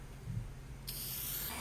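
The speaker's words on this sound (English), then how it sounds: "we're going to take the cleats and we're going to just spray them with some lacquer" Lacquer spray begins partway through, a steady close hiss of finish being sprayed onto bare wooden cleats for a quilted maple and walnut coffee table, starting abruptly and continuing to the end.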